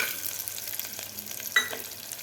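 Cashews sizzle and fry in oil in a pan with browned onion, a steady close crackle with a sharper pop and scrape of stirring near the end.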